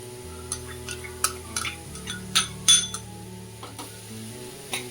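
Capsicum and onions being sautéed in a pan for a pizza sandwich, heard as scattered clinks and scrapes of a spoon against the pan over a soft sizzle, with music playing throughout.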